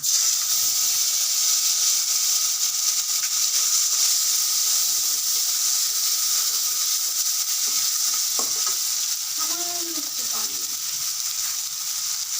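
Garlic paste, fenugreek and whole black cumin sizzling in a large amount of hot oil for pickle making, giving a loud, continuous hissing fry throughout, with faint clinks and a brief bit of background voice near the end.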